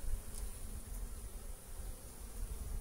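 Honey bees hum in a continuous, soft buzz around an open beehive during early spring hive maintenance, with a low, steady drone and no speech.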